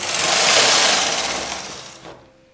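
Domestic knitting machine carriage swept across one row of a short-row knit top, a loud close rushing mechanical whir that builds, holds, then fades with a small clack near the end.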